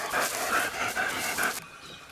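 A dog pants rapidly and steadily, close by, in rhythmic breathy bursts for about a second and a half before stopping, outdoors by a dam during a boar hunt.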